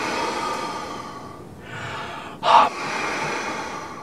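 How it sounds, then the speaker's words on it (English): Nasal exhalation in the ha method breathing exercise: a steady, close airy breath with a brief sharper puff near the end, heard alone without talk. "while exhaling through your mouth, you close your mouth and let the air come out your nose like this"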